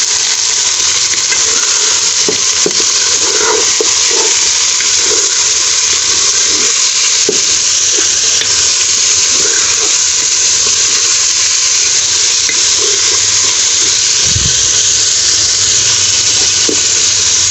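Half a kilo of beef sizzles steadily in a hot pan for a dhaba-style bhindi gosht, a constant loud hiss with faint scattered clicks and a soft scrape near the end, no voices.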